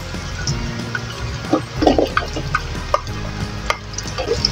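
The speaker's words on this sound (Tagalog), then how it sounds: "Pag bumango na po yung bawang, ihulog po natin yung sibuyas." Garlic and onion frying in a pan for egg lugaw, a light sizzle under irregular scraping and stirring clinks with a few sharper utensil taps.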